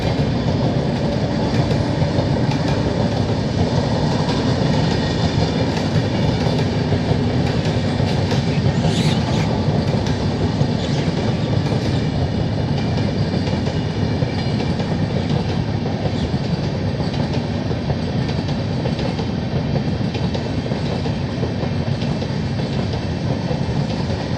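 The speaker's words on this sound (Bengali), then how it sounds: "এই দেখুন ট্রেন যাচ্ছে আমার বাড়ির পিছন দিয়ে।" A train runs along the line just behind a house in the Dooars, a steady loud rumble and rattle of wagons and wheels continuing without a break throughout.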